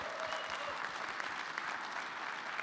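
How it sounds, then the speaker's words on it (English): Audience applause fills a conference room at a Cardano livestream event, a steady dense patter of many hands clapping throughout at moderate distance, with no talk over it. "could we just get a round of applause for decentralization in the room right now?"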